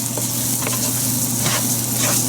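Masala and rice fry in a pan over medium heat with a steady, close sizzle and occasional stirring scrapes, no voices.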